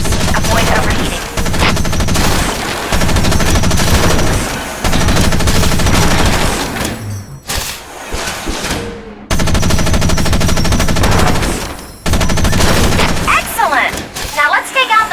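Machine gun fire in the Front Mission Evolved game, loud sustained bursts of rapid rattling shots broken by short gaps and a brief lull, dense and close, with game voice talk mixed in.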